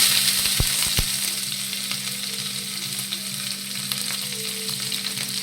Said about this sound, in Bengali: পেঁয়াজ কুচি দিয়ে দেবো